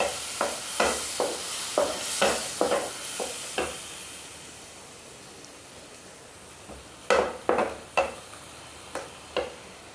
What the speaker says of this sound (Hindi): तो ये 2 टमाटर को हमने पीस कर ले लिया है। तो इसको भून लेते हैं।